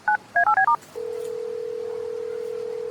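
A telephone number tapped out as a quick series of touch-tone beeps, seven short tones in uneven rhythm, followed by a steady electronic ringing tone, close and clear with no voices.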